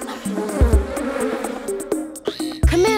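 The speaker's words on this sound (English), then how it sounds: "So many bees!" Bees buzzing in a hive in an animated children's show, a close, droning insect hum with shifting pitch and layered buzzes, alone and fairly loud with a few brief sharp sound effects.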